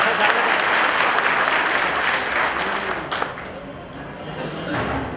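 Audience clapping at a welcome ceremony during a temple consecration festival in Pune, loud sustained applause from a crowd with a voice speaking over it, easing a little before swelling again at the end.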